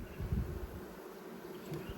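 Honey bees hum inside an open hive during a frame-by-frame inspection in an apiary, a close, steady buzzing drone that swells slightly but never pauses, with no voices.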